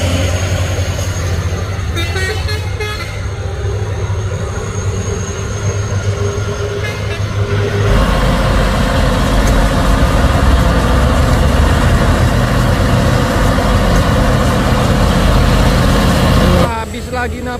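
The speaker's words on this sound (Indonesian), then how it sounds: "Ada truk tangki juga." A tanker truck labours up the Bukit Kodok hill road, its engine a heavy, close, continuous rumble that swells louder partway through and holds steady before easing near the end.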